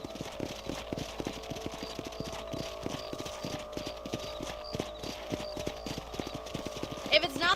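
Horse hooves clip-clopping in the Red Dead Redemption video game, a steady rapid trot of even hoofbeats running throughout under a constant low background tone, with a brief bright jingle near the end.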